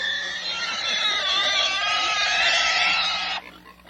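A pig oinks and squeals in a loud, drawn-out run of grunting calls lasting a few seconds before cutting off abruptly.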